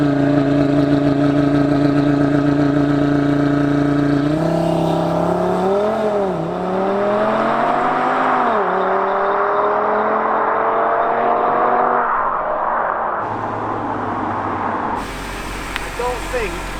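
A 2020 RS3 engine climbs in pitch as it accelerates, then drops abruptly several times as gears short-shift at about 4,000 RPM, loud and steady throughout.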